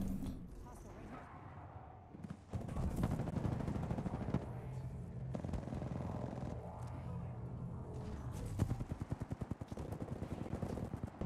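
Video game gunfire crackles in fast bursts, with rapid automatic fire that grows denser toward the end, loud and close, mixed with mechanical clatter and other game sounds.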